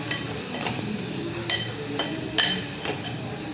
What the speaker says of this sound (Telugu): అల్లం ఉల్లి పేస్ట్ కొంచెం, పచ్చివాసన పోయే వరకు ఫ్రై చేసుకోవాలి.